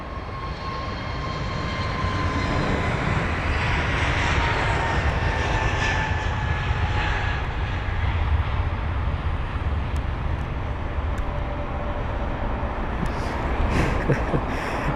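A British Airways A380 taxis toward runway 27 right at London Heathrow, a loud, steady engine roar with a rising whine early on and a few faint clicks near the end, with no speech over it.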